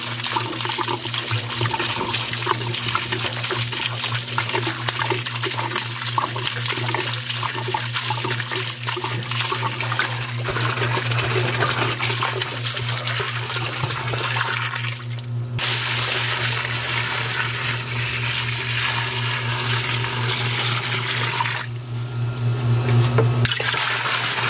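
Water fills a 10-gallon nano reef aquarium tank holding rock, a loud, continuous rushing and splashing flow with two short breaks partway through.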